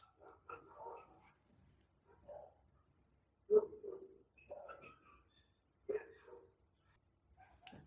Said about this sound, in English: I'm going to have to pause the reading because the dogs are being too loud.